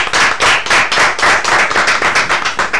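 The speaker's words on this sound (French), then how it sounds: "Merci de l'applaudir et bienvenue sur le plateau." An audience on a French television set applauds a guest tailor, loud rhythmic clapping in a regular beat, close and sustained for a few seconds without talk.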